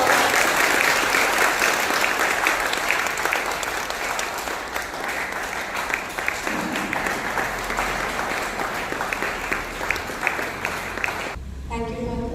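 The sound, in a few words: audience applause for the guest speaker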